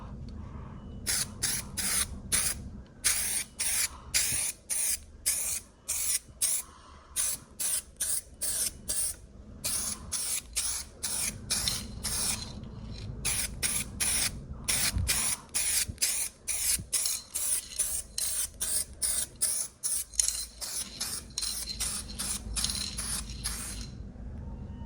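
Short bursts of aerosol spray coat an aluminium car body panel during a UV repair, a rapid string of hissing puffs that repeats for a while at close range without talk.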